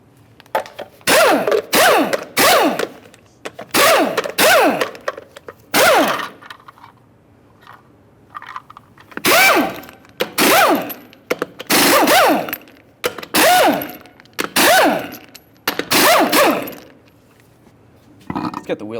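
Six 22mm lug nuts being removed from a 1999-2006 Chevrolet Silverado front wheel: loud, sharp bursts of rattling hammering, each about half a second long, come in quick clusters with short gaps between them.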